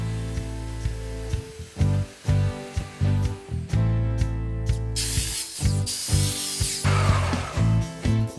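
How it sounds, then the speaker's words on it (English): A wooden outdoor table top being hand-sanded with smooth sandpaper, giving a series of close, rhythmic rasping strokes that grow harsher later on, over a steady tonal hum. "Now just to sand this off with a smooth sandpaper, and make the edges nice and rounded."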